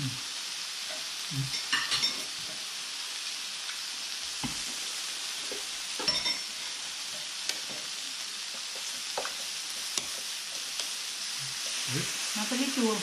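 Pork belly grilling on a Thai moo kata grill pan gives a steady close sizzle with scattered pops and crackles, while voices talk now and then over it.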